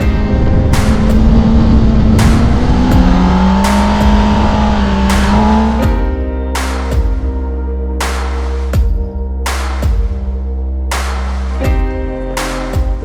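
A 2021 BS6 Kawasaki Ninja ZX-10R's 998cc inline-four engine revs loud and close, its pitch climbing steadily, then a run of sharp, regular throttle blips follows, with no talking.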